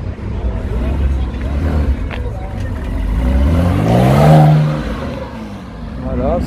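A Porsche at a car gathering in Lyon, its engine revving and swelling as it drives past nearby, then easing off, with people talking over it.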